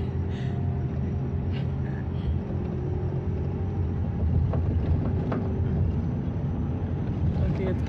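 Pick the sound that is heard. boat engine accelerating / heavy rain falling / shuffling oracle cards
boat engine accelerating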